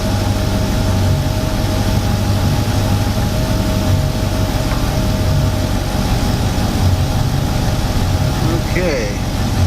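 Idling engine of a towing boat with its alternator charging under load, a loud, constant low rumble with a steady tonal whine layered on top, close and continuous throughout.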